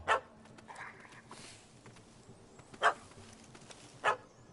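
Dog barking in The Witcher 3 video game, three or four sharp barks spaced a second or more apart over faint game ambience, moderately near.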